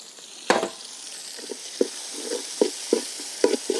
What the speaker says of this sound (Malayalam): ഇതിനെ ഈ നടുക്കുള്ള എണ്ണയിലോട്ടിട്ട് ചെറുതായിട്ടൊന്ന് വഴറ്റിയെടുക്കാം.